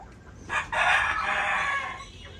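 On a layer poultry farm, a hen gives one loud, drawn-out squawking call close by, rising suddenly and trailing off over about two seconds, with no talking.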